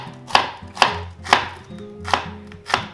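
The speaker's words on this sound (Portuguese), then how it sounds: "Então eu vou começar picando uma cebola." A knife chops an onion thinly on a cutting board, five crisp, evenly spaced strikes about half a second apart, close and clear with no talking.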